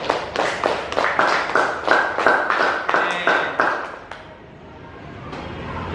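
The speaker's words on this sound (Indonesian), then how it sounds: "Pak Guru ingin kalian memberi penghargaan kepada teman-teman yang sudah berani maju ke depan dengan tepuk" A class of students claps in a slow, steady unison rhythm of about a dozen beats, then the clapping stops, leaving quiet classroom noise.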